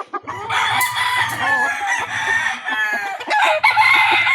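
A one-year-old Yellow Legged Hatch gamefowl rooster in a backyard crows close by, with other fowl crowing and clucking around it and a low hum underneath.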